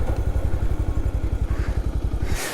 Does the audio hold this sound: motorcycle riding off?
yes